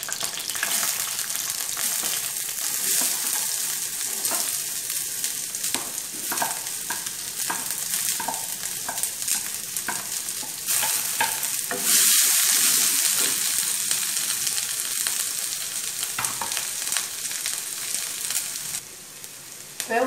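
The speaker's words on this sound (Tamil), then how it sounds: "பொரிஞ்ச உடனே சின்ன வெங்காயம் நறுக்கி சின்ன வெங்காயத்தை போட்டுக்கேன்" Shallots frying in hot oil in a pan for a prawn gravy, a continuous crackling sizzle with occasional stirring scrapes, close up and steady throughout.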